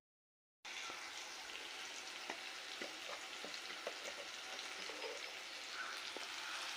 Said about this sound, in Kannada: ಅದು ಸ್ವಲ್ಪ ಚೆನ್ನಾಗಿ ಮಿಕ್ಸ್ ಆಗಿ ಎಣ್ಣೆಯಲ್ಲೇ ರೋಸ್ಟ್ ಆಗಬೇಕು.